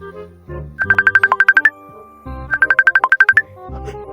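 A mobile phone ringtone plays from an incoming call, two bursts of a bright, rapid, pulsing melodic pattern separated by a short pause, loud and close with no talking.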